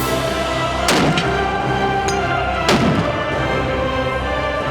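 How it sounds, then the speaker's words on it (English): Two loud, sharp gunshots from a .50 BMG rifle fitted with a muzzle brake, fired at long range with a few seconds between them, each booming and ringing out. "That was the 50 BMG."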